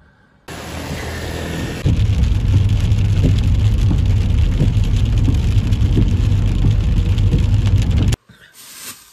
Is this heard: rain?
yes